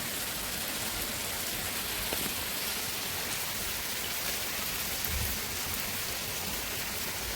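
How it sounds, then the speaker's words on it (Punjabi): Heavy monsoon rain pours down in a dense, steady hiss, close and constant throughout, with no voices. "ਜਿੰਨਾ ਇਹ ਮੀਂਹ ਤੇਜ਼ ਆ ਇਹਨੇ ਤਾਂ ਮਿੰਟੋ ਮਿੰਟ ਹੀ ਪਾਣੀ ਪਾਣੀ ਕਰ ਦਿੱਤਾ ਸਾਰੇ ਪਾਸੇ"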